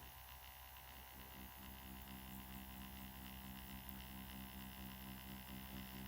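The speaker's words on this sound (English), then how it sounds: "Do you hear the machine vibration?" A steady low electric hum with a faint buzzing vibration from a permanent makeup machine, continuous and quiet, with no voices.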